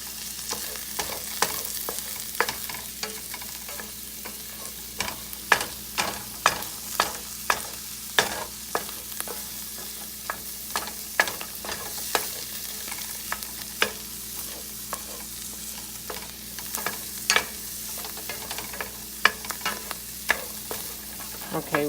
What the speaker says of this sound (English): you're just going to heat this up until the egg is thoroughly cooked